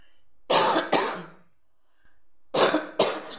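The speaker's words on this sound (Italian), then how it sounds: "ho ancora un po' di tosse" Two pairs of sharp, hoarse coughs from a nearby person with a lingering cough and hoarse voice, separated by a short quiet pause.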